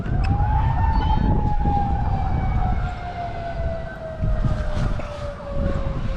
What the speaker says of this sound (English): we still got the sirens in the background.